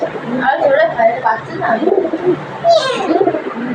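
A pet pigeon-like bird coos and calls repeatedly at close range, with a rising chirp near the end, while people talk over it indoors.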